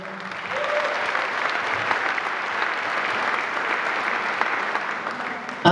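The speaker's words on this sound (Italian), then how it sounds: "un fortissimo applauso" Loud, sustained audience applause at a live music show, dense and continuous throughout, with a faint voice at the start and a brief sharp sound at the end.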